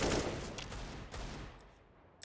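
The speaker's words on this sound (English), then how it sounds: "Spray through the wall bang, trying to then get the kills on Sticko" Counter-Strike: Global Offensive gunfire sprays through a wall during a professional esports match, a fast burst of loud rifle shots that fades out over about two seconds.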